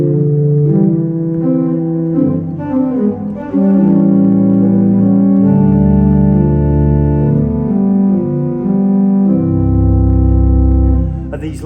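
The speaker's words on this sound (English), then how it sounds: "The first stop is a 16-foot double diapason" A Hill pipe organ's 16-foot double diapason stop, heard within a magnificent four-manual instrument, sustains deep, rich chords that shift from one to the next over several seconds, loud and resonant with no talking.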